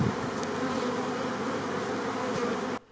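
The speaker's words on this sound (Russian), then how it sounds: "Пчелосемьи переведены в 113 холодных ульев, которые изготовлены по уникальной технологии." Honey bees hum around apiary hives holding 113 cold hives, a dense steady close buzz throughout that cuts off abruptly at the end.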